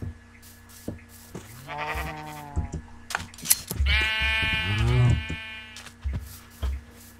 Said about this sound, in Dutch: Het zijn schapen, toch? Zie ik schapen?